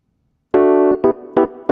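Electric piano sounding a few short chords from a gospel song: one held chord and then two quick stabs, close and clear with silence before.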